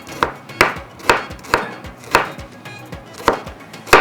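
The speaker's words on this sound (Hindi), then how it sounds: "स्लाइस में कटिंग करते हैं अदरक" A knife slices through fresh ginger on a cutting board with about nine crisp, evenly spaced cuts, close and fairly loud, with no talking.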